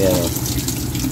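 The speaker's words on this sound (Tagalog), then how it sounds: "May tubig na." Water rushes steadily into a Samsung automatic washing machine, a continuous loud splashing fill with a voice talking faintly over it.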